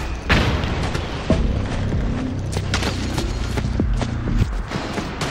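Rapid, overlapping gunfire and heavy booms rattle through a Metal Gear Solid 4: Guns of the Patriots battle, dense and loud throughout with a low rumble underneath, no speech over it.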